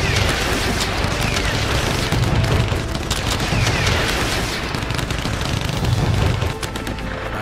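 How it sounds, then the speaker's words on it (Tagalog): Sustained, echoing gunfire fills a forest during an armed clash with Abu Sayyaf militants: a loud, dense and nearly unbroken rattle of shots and booms that rolls on from start to finish with no speech. "ang tahimik na kagubatan binalot ng umaalingaw-ngaw na putukan"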